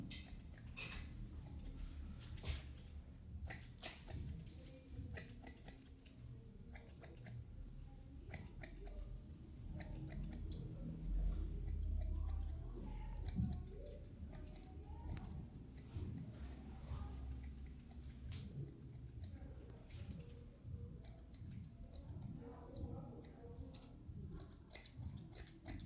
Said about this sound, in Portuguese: Então você vem com a tesoura dentada, tirando o excesso e vai remover um pouco desse peso aqui.